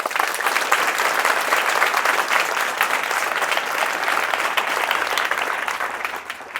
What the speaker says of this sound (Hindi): आप जोरदार ताली बजा सकते हैं